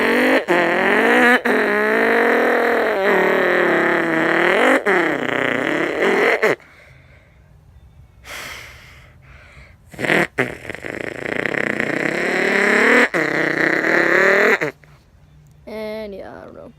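A voice imitates a car taking off with loud, buzzing engine-like vocal drones that rise and fall, broken by short pauses and a few quieter breathy bursts.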